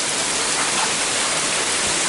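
Heavy rain from a storm falls as a dense, steady broadband hiss and roar, constant and close throughout, with no voices over it.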